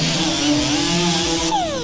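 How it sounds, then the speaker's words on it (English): An angle grinder works over a truck tailgate, grinding dent-repair marks and paint down to bare metal; a loud, steady whine runs throughout, with the pitch shifting and dropping near the end. "I'm gonna grind out where all the marks that I did for the dents, ground it out to bare metal"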